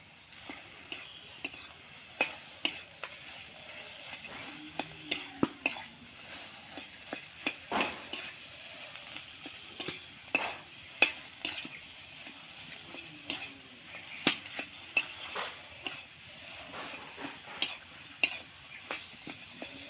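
Potatoes being stirred into spice paste in a pan, with faint frying underneath and frequent sharp scrapes and taps of a spoon against the pan, unhurried and close; no talk.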